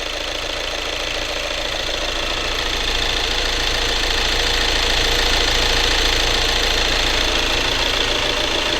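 Volkswagen Tiguan diesel engine idling steadily through an intake cleaning flush, a continuous close mechanical rumble with a knocking diesel texture that swells slightly partway through, with no talking.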